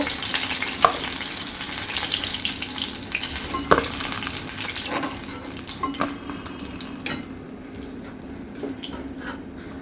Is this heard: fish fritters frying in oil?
yes